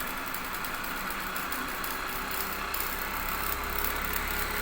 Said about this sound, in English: See, this machine has started. The RPM is gradually increasing.